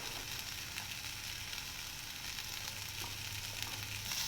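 Masala stirred into soft cooked tomatoes sizzles steadily in a hot pan, a continuous quiet frying hiss with light scraping from the stirring and no voices.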